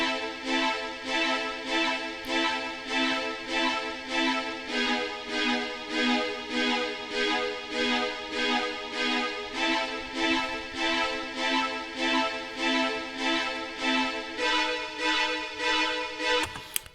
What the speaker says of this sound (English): we've got the same chords, but now we're doing them staccato,